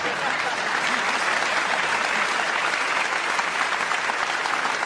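A comedy-show audience breaks into loud, dense applause for a woman singer, a continuous wall of clapping that holds steady from start to finish.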